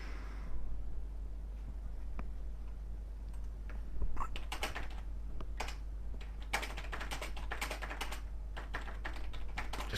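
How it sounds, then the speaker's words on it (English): Rapid keystrokes on a computer keyboard clatter in irregular bursts through most of the stretch, close and moderately loud over a steady low hum, with no talking. "Just typing."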